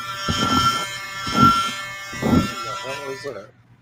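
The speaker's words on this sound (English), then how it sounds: "My mini vacuum cleaner." A small mini vacuum cleaner hums with a steady, thin electric buzz throughout, running under a person talking nearby before the voice trails off.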